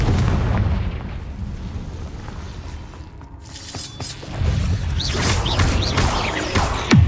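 Confringo fire spell detonations in the game Hogwarts Legacy, heavy rumbling booms and crackling blasts over continuous battle noise, with a deep roar that dips then surges again.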